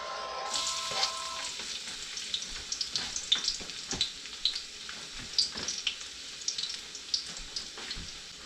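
Garlic fries in a hot pan, starting as a sudden burst of bright crackling sizzle that continues with frequent pops and utensil scrapes nearby, with no speech.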